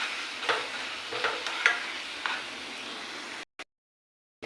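Peas biryani mixture stirred in a cooking pan, soft scraping strokes a few times over a faint sizzling hiss, close and quiet, ending in sudden silence.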